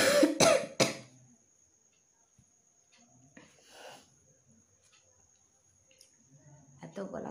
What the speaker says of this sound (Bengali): যেই ঘুমাতে যাচ্ছে অমনি কাশি শুরু হয়ে যাচ্ছে